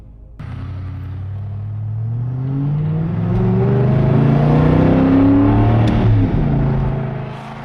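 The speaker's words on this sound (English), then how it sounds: "we can actually start to warm it up, give it a little bit of throttle" An abandoned supercar's engine, rebuilt with a widebody kit, starts and warms up, giving a deep, loud rumble that rises steadily under light throttle and then holds at a higher drone before easing slightly at the end.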